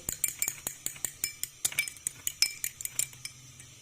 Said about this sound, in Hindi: अब अच्छे से इसको मिक्स कर लेंगे।